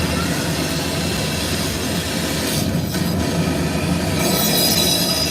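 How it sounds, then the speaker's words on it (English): A train ride at Universal Studios rumbles along with a dense, continuous roar and metallic wheel squeal, loud and close throughout, with brief shifts in the noise partway through. "similar to that train ride right there"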